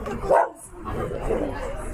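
A dog gives one short, sharp bark up close, followed by quieter room noise.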